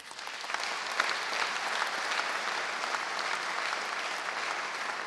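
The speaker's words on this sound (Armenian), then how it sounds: "մենք բուռն ծափերով ողջունենք իրար" A crowd at an Armenian political rally of the Yelk alliance applauds warmly. The clapping is dense and steady, holding at an even level for the whole stretch.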